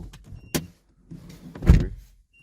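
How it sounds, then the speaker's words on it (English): Doors on a 2007–2011 Mazda CX-7 open and shut in a short burst: a sharp latch click, then a heavier thud as a door closes, close by with no talking. "Open, close the doors 3 times."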